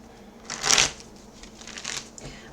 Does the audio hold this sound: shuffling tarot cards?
yes